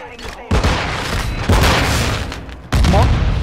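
Grenade blasts in the Warzone 2 video game, several sharp loud booms with dense gunfire-like crackle between them, overlapping chaotic game combat and voices talking.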